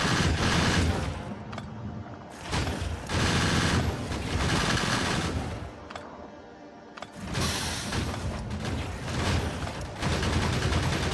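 Gun turrets fire in Factorio Space Age as dense, rapid machine-gun bursts, loud and continuous, broken by two short pauses, with mechanical clatter underneath.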